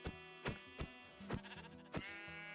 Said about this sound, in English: Get out of here, sheep.